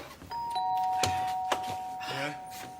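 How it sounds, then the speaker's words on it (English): A doorbell rings in the British sitcom Bottom: a steady two-tone chime sounds over quiet room tone, with a few sharp knocks or thuds and a brief voice near the end. "ring the bell."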